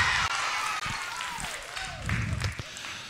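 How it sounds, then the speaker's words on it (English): A school chapel congregation claps for a girl at a lower school service, a steady wash of applause lasting about three seconds, with voices calling out over it. "Let's give her a big round of applause."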